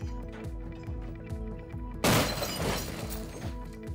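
A sudden loud crash and shattering impact of a car crash test bursts in midway over a steady mechanical hum, its debris noise lingering before fading.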